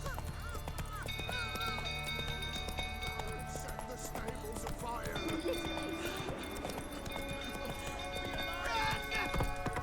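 Roach the horse gallops in The Witcher 3, hooves clip-clopping in a steady, quick rhythm that continues throughout, set against game music and distant background voices.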